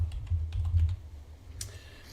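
Typing on a computer keyboard, a quick run of light clicks over low hum for about a second, then fading to quiet room noise with a soft brush of sound near the end.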